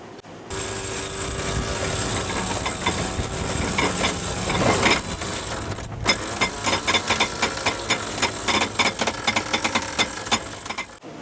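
A catamaran's engines run steadily and loudly at just over 1650 revs, with a continuous low rumble and a rattling, rhythmic mechanical clatter that grows choppier toward the end.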